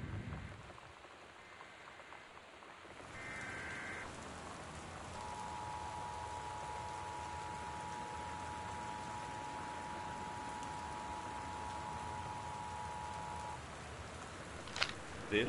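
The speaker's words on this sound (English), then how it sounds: "The Northwest Weather Service reports high winds and torrential rain conditions" Heavy torrential rain with high winds, a steady broadband hiss of downpour holding from start to finish, with a faint tone running through the middle and a couple of brief knocks at the end.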